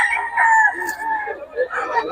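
Young gamecocks crow and cluck close by at a rooster market, with overlapping calls over a short stretch.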